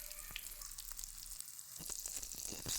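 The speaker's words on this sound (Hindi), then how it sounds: "अब इसको यहाँ पे हमने करना है फ्राई।" Cabbage kebabs frying in hot ghee over medium heat, a soft, close crackling sizzle with scattered pops and spits that grows slightly busier toward the end.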